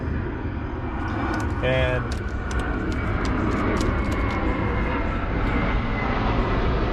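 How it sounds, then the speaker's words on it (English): An airplane passes overhead as a steady, loud broadband roar filling the whole stretch, with a voice talking briefly over it. "every time I'm talking, an airplane goes by."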